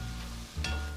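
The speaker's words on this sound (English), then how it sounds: "Make sure to stir your onion once in a while." Onion frying in a pan while spaghetti Bolognese is prepared, a low steady sizzle broken by a short scrape of stirring about halfway through, then the sizzle carries on loud and close.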